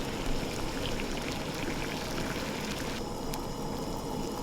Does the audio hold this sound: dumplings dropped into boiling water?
yes